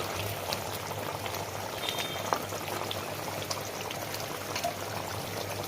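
Hilsa fish curry with eggplant pieces bubbles steadily in a pot, a continuous even simmer with a faint hiss and a couple of small clinks, no voices.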